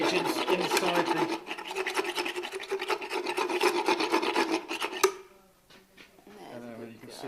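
A vet rasps a horse's sharp teeth smooth with a dental file, giving a rapid, rhythmic scraping close by that stops abruptly, followed by quieter handling noises.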